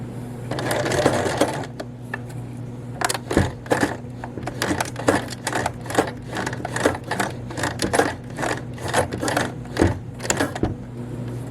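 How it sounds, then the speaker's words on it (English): A sewing machine stitches an elastic waistband for a skirt, running in loud, close bursts of rapid mechanical clatter broken by brief pauses and a few sharper clicks. "we'll place a sewing pin and we're going to stitch this together"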